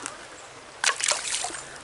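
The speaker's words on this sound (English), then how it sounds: "we hiked down to the creek, guys" Creek water splashes briefly at close range, a sudden burst of sloshing after a quiet murmur, then tapering off.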